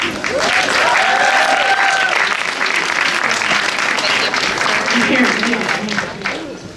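An audience at an opening-night screening Q&A applauds steadily and warmly for several seconds as a co-programmer returns to the stage, with a voice speaking over the clapping.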